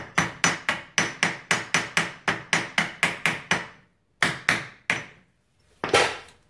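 A part on a 2012 Polaris Sportsman 500 HO ATV is tapped into place with a hammer: a fast, even run of about a dozen sharp metallic knocks up close, then a pause and a few more blows.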